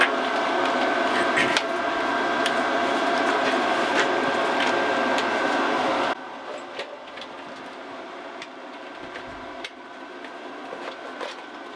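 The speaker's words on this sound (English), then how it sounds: "We're just going to blast a weld on there and see what it does." Spool gun welding on thick stainless pipe, a steady loud crackling buzz that runs continuously, then stops, leaving a quieter background with faint clicks.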